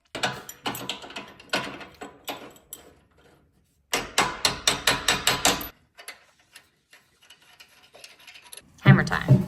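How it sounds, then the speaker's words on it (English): Hammer blows during a Jeep JKU build as an anti-rock sway bar goes in, coming in bursts of sharp, rhythmic metallic strikes separated by pauses, close and fairly loud, with no talking. "Hammer time."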